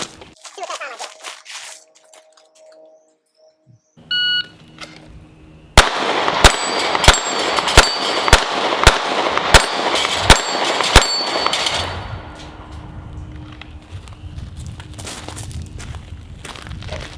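A Sig P365 Gen 2 pistol with a 12-round magazine fired on a shot timer from about 12 yards: a sharp electronic beep, then a string of eight loud, evenly spaced gunshots ringing out, followed by lower outdoor noise.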